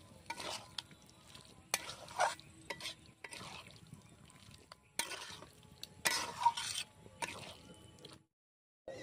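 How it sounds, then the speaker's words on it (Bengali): Ol data, elephant-foot yam stalk curry, being stirred with garam masala after coming off the heat: soft wet squelching and scraping strokes with faint sizzle and occasional sharp utensil clicks, moderately quiet, briefly falling silent near the end. "নামানোর পরে আমি ওর মধ্যে গরম মশলা দিয়ে দিচ্ছি। দিয়ে ভালোভাবে আমি নাড়াচাড়া করে নেব।"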